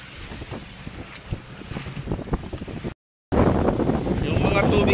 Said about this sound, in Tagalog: Medyo maalon. Pumapasok ang tubig sa bangka